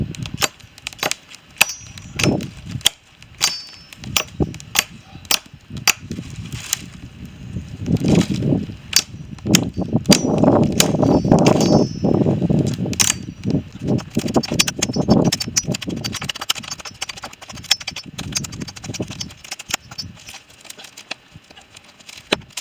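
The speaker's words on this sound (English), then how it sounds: "I'm gonna have to use the machete to delimb these" A machete chops limbs off cut poles at a solo campsite, giving a long series of sharp, irregular hacking strikes close by, with rustling branches in between.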